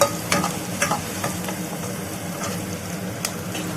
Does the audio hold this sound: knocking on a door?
no